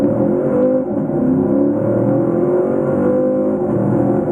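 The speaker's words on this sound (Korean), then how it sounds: "여기서 잠시 카마로 SS의 가속 성능에 대해서도 한번 알아볼까요?" Chevrolet Camaro SS accelerating hard from a launch, a loud, deep engine roar climbing steadily in pitch and sustained close by throughout, with no voices.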